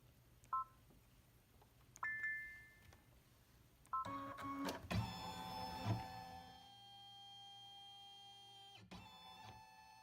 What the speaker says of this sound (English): we're just going to be scanning in our fabric so that we can place boundary points around our triangle